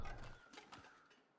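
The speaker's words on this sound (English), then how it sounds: "I hear crows." Crows cawing in the snowy wilderness of the survival video game The Long Dark, a few short harsh calls at moderate distance that fade out within a second and a half, with no talking.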